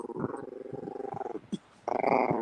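A feisty dog growls nearby in a series of rumbling bursts, with a short pause before a louder, rougher growl resumes.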